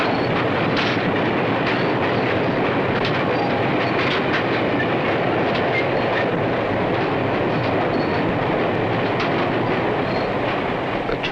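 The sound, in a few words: train running on rails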